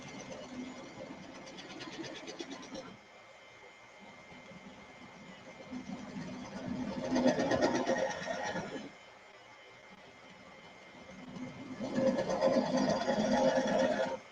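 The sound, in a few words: vacuum pump running while hollowing a mesquite bowl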